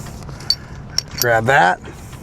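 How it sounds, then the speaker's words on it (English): A trailer safety chain rattles and clinks as its spring-loaded hook gate is pulled open, a few sharp metallic jingles followed by a louder burst of chain rattle, close by. "grab your safety chain, open your spring-loaded gate, you can grab that,"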